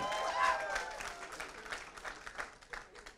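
A comedy-club audience gives scattered, fairly quiet applause that starts with a brief voice and crowd noise, then thins into soft, uneven clapping.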